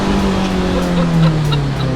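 Toyota 86 fitted with a naturally aspirated K24 engine on Kinsler individual throttle bodies making almost 300 horsepower, revving hard with a loud, raspy engine note that climbs and holds at high rpm.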